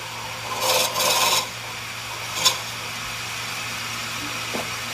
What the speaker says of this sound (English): I've got a 3/8 bit here and I'm only going in a short distance, so I'm going to just do it by hand.